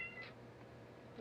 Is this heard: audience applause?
no